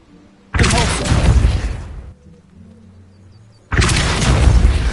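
A Depulso spell is cast in Hogwarts Legacy, with two loud, booming bursts of magical force. The first swells and fades over a second or so, and a second blast hits a moment later after a quieter hum.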